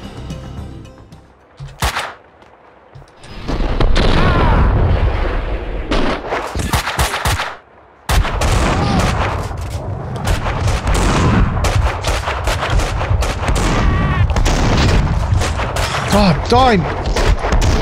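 Loud bursts of shotgun fire in Max Payne 2, repeated blasts and heavy gunfire mixed with in-game clatter, while a person speaks briefly between shots.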